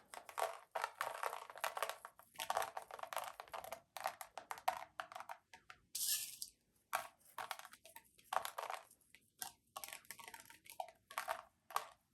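Gold crushed filler glass is sprinkled over liquid glass for a rose gold glitter art piece, giving faint crisp crackly patters in short bursts with brief gaps and no talking.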